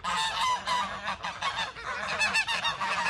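A flock of geese honks loudly and continuously, many overlapping calls close by with no pauses and no talking.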